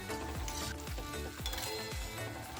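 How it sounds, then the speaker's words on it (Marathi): Cheese shankarpali pieces fry in hot oil, giving a dense, continuous sizzle with bubbling crackle and a few soft knocks of a utensil stirring them in the pan. "आपण जे छोटे छोटे काप करून घेतले होते ते भरपूर असे सोडूयात तेलामध्ये"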